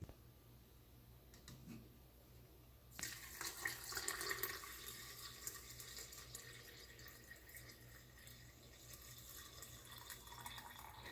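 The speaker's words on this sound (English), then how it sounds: "So I just kind of pour some water in, and I'll show you how far I fill it up." Water pours from a container onto coffee grounds in a cold brew filter, starting abruptly after a quiet moment and continuing as a steady, close splashing stream that slowly softens.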